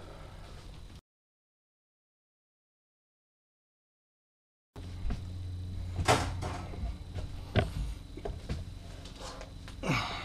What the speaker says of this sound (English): So now I'll open up this here panel